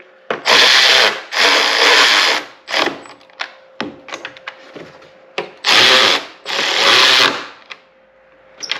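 A Milwaukee high-speed ratchet runs a bolt down on a 2017-2023 Honda Ridgeline door, in several loud close whirring bursts separated by short clicks and pauses, two pairs of long runs framing smaller taps in between.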